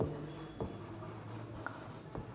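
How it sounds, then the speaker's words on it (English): A pen scratching out handwritten notes during a physics lecture on energy band theory, heard as soft, close, steady scraping with a few faint taps. No voice is heard. "I have to write this point."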